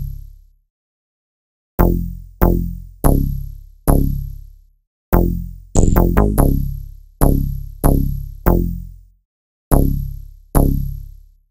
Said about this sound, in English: It's more of a bass pluck, which sounds like this.